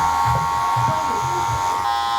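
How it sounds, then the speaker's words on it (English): An electric hair clipper runs in a steady, close buzzing hum while its corner fine-tunes a man's curly, wavy hair, the tone wavering slightly as it works through the hair. "Mainly using the corner of the clipper though, just to kind of fine tune that"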